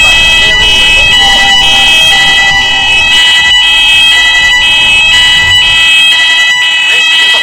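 Mall fire alarm blaring with a loud, steady electronic tone and repeated strobe-like pulses, while a recorded voice gives an evacuation announcement over it.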